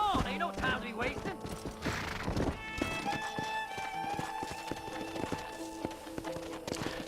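A horse's hooves clip-clop in the Western video game Red Dead Redemption, a steady run of hoof beats under game music with tonal notes and occasional mechanical clicks.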